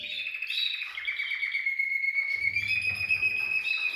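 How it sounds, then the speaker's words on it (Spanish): Canaries in an aviary chirp and trill in a steady high-pitched stream, clear and fairly close, with a short low rumble partway through and no talking. "Y aquí están los pájaros ya."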